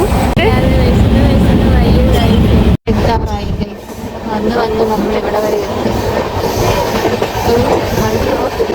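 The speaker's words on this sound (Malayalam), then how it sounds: "ട്രെയിൻ ഇപ്പൊ നല്ല സ്പീഡുണ്ട് ഗൈസ് നല്ല സ്പീഡുണ്ട്" A fast passenger train thunders along with a loud, steady rumble and clattering wheels, briefly cutting out near the three-second mark before roaring on.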